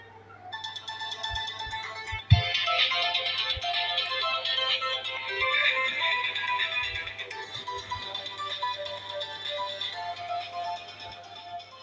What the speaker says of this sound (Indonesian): di sini kita akan coba bunyiin ya ringtone-nya guys ya.